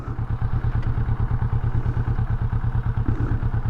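A motorcycle being ridden, its engine putting out a loud, steady low-pitched thrum of rapid even pulses close to the rider, with no voices.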